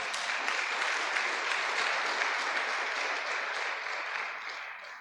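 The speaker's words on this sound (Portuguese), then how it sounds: "Dê um aplauso a esse Deus novamente." A church congregation claps during a worship service, a steady, even wash of applause from a large group that holds level for several seconds and then begins to taper off.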